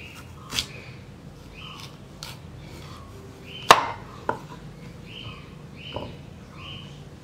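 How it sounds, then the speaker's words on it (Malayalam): A knife cuts cooked tapioca lengthwise in two on a board, with a few sparse, sharp taps and one louder close chop against the quiet background. "ആദ്യം നമ്മൾ ഈ കുക്ക് ചെയ്ത് വെച്ചിരിക്കുന്ന കപ്പ നീളത്തിൽ രണ്ടായിട്ട് മുറിക്കുക."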